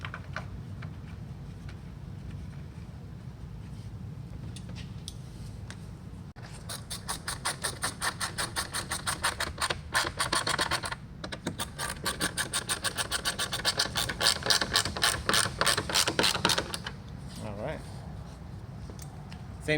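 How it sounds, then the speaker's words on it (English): Screws are driven back into a Hyundai Veloster rear bumper cover, heard as long runs of rapid, fine ratcheting clicks in close succession, with quieter handling noise before and after. "I'm gonna put the screws back into place."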